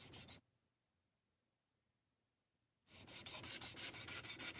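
A knife is sharpened with close, rhythmic scraping strokes: a brief rasp, a long silence, then a steady run of repeated strokes.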